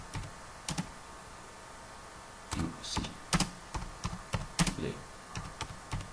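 A computer keyboard typed on in irregular bursts of crisp clicks, starting with a few taps and then running in quicker clusters, close and clear, with brief French speech in the background.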